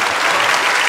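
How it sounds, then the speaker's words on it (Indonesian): Dense, steady applause from an audience of high school students during a motivational talk, loud and continuous throughout with no voices above it. "Good, tepuk tangan."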